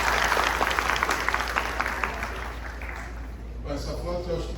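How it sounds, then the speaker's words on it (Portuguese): Applause from an audience at a community service organisation event, a dense patter of clapping that is loud at first and then thins out and fades toward the end. "Uma salva de palmas para eles,"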